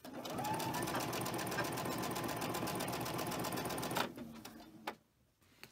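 A sewing machine stitches cotton fabric pieces together in a steady rapid run for about four seconds, close and fairly loud, then stops, leaving a few faint handling knocks.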